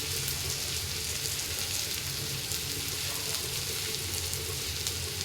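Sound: onions frying in oil

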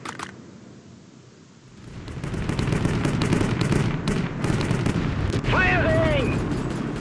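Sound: cannon fire in video game World War Armies

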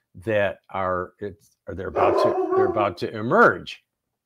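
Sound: dog barking

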